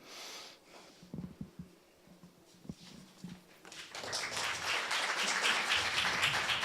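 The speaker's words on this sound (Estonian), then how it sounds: "Juba aplaus." Applause from a seated audience at a panel discussion on algorithms, starting after a few scattered thumps and swelling into steady, moderate clapping for the last few seconds.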